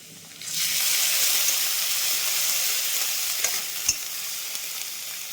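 Onion paste hitting onions already fried until red in hot oil: a sudden loud sizzle bursts in after a brief quiet and holds steady and close, with a couple of small clicks.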